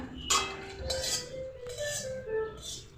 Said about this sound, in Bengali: গ্যাসে কড়াই বসিয়ে দিলাম